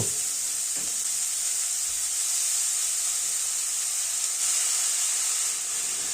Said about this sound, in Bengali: বেগুনটা একটু নরম হয়ে এলে এবার আমরা এতে কুচি করে কেটে রাখা খেসারি শাকগুলো দিয়ে দেব